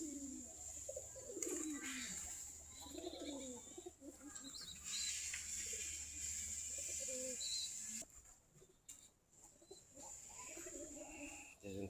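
Giribaz pigeons coo softly as they peck at red soil, low repeated coos and faint bird calls at close range under quiet ambient noise.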